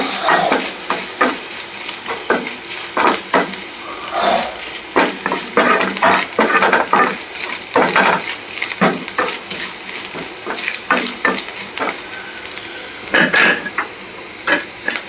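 Spinach greens and grated coconut are stir-fried in a pan, a spatula scraping and clattering in quick, irregular strokes over a soft continuous sizzle, close and fairly loud.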